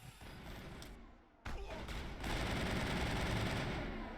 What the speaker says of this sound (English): I'll just switch to my assault rifle real quick.